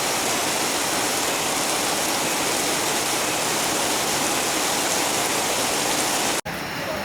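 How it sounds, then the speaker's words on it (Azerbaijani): Heavy rain pours down in a dense, unbroken hissing roar, loud and close, cutting off abruptly just before the end. "Leysan, bildiyiniz Leysan gedir,"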